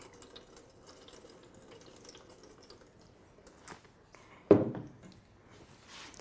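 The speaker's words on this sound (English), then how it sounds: "You can see the water flows from the top tray to the bottom tray." Soft trickling of water running through trays, quiet and close, with a brief louder splash near the end.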